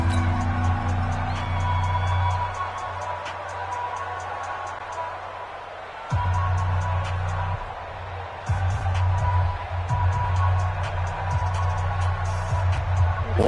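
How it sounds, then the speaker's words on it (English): A stadium crowd in a PS4 football video game roars steadily ahead of a big third down, a continuous background swell with shifting intensity under game sound effects. "The crowd getting into it as we come up on a big 3rd down."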